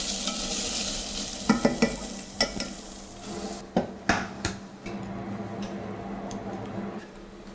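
Onion slowly caramelizing in a pan gives off a steady hiss of frying, broken by a few sharp clicks and scrapes of stirring partway through, close and fairly loud.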